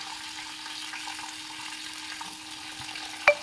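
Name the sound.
frying dried and green chillies with mustard seeds in oil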